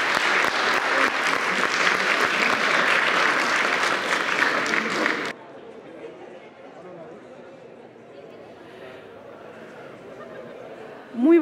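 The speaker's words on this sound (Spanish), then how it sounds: "Un aplauso, por favor." Loud crowd applause at a university student forum and awards ceremony rings out for about five seconds, then cuts off abruptly to a quiet room with faint background murmur.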